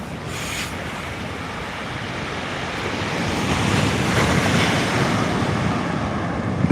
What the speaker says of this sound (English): The wind appears to have gone quite northerly.